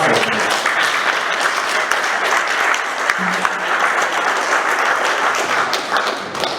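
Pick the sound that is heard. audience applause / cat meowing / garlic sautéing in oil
audience applause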